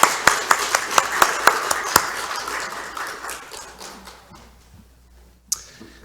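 A church congregation claps in a brief scattered burst of a few sharp, separate claps that fade into quiet, followed by a single late clap.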